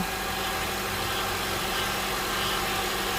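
A running Honda CR-V 2.4L engine, its fluid full, drones steadily with an even, rhythmic mechanical noise from the steering or water pump, heard up close at constant loudness.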